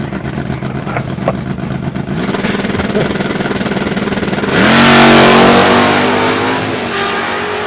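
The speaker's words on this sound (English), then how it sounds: "What sounds like a high winding Mustang too" A Ford Mustang race car engine winds up loudly at high rpm, building to a howling peak midway and then easing off slightly while staying strong and close.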